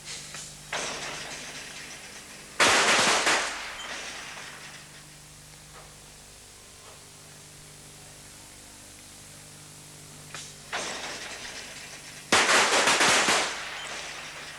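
Rifle shots ring out at a 1985 Champion of Champions shooting competition at Narabeen, Australia: two loud sharp reports about ten seconds apart, each preceded by a softer, more distant shot, with quiet between.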